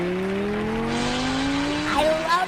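Car exhaust revving, played as a sound effect in a radio ad for an auto shop, a short burst of rising engine tone that climbs steadily then jumps higher at the end.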